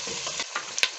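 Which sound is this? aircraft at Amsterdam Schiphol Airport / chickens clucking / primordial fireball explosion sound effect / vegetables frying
vegetables frying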